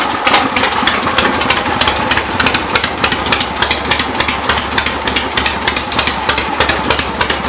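A 1975 Harley-Davidson Ironhead Sportster engine running slightly rich, loud and close, with a rapid, lumpy rhythmic chug of regular firing pulses held steady throughout.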